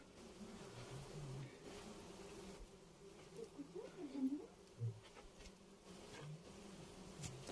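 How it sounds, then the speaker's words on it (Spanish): Many flies buzz inside a cave, a faint continuous droning hum with small swells and shifts as insects move close by, heard alone without talk. "Muchas moscas."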